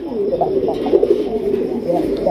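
Large-bodied pigeons of the Rajgolla type coo steadily in a farm loft, with soft, low, rolling calls overlapping close by for the whole stretch.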